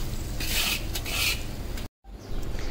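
A spoon stirs sugar syrup in a pan with the gas turned off, giving soft repeated scraping strokes close by with a brief dropout near the end.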